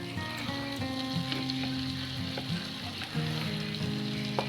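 Chicken fries with tomato in a pan for a dum biryani, giving a continuous close sizzle and crackle, with occasional stirring and faint steady tones in the background.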